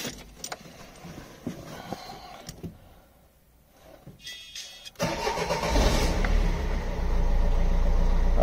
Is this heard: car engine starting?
yes